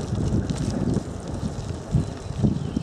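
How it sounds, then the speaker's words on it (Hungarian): Wind blowing outdoors on a rural road in southern Zala ahead of a cold front, a continuous low rumbling buffet with gusty surges, with no talking. "a szél is eléggé fúj"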